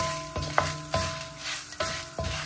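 A tempering of spices with salt and turmeric sizzles steadily in a pan while a spoon stirs it, scraping in several distinct strokes close by, with no talking.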